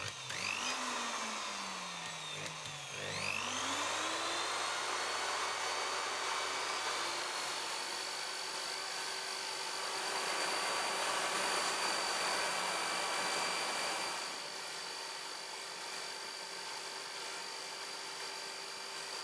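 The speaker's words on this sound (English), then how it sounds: "I connect a power drill to the inverter and operate the exercise bike" A power drill run from an inverter powered by an exercise bike whirs steadily for a long stretch, its pitch dipping and climbing early on, then holding a constant high whine.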